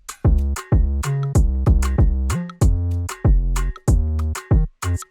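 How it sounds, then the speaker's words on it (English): Layered snares with a kick and a heavy 808 bass are programmed in FL Studio for an Afro/Moombahton remix. The groove is loud and bouncy, with booming sustained bass notes under crisp repeating hits. "If we add the kick in the 808,"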